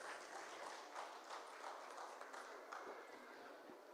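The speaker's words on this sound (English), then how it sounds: "Ladies and gentlemen, with a big round of applause." A crowd at a food and wellness event in Chennai applauds steadily, a dense wash of clapping that holds for several seconds at moderate distance.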